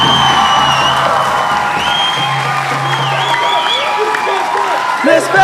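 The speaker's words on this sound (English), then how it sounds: "So can we get a round of applause, please?" Outdoor Flag Day crowd at a school event applauding and cheering, with shouts and whoops rising over steady clapping and voices throughout.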